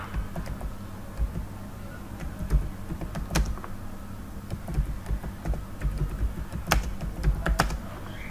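Typing on a Windows computer keyboard, a steady patter of close key clicks with a few sharper taps standing out over a low background hum, and nobody speaking.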